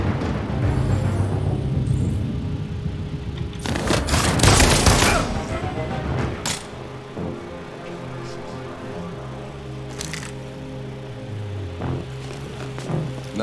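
Burst of gunfire in the Detroit: Become Human video game, a loud dense volley around the four-second mark over steady game ambience and music, followed by quieter scattered shots.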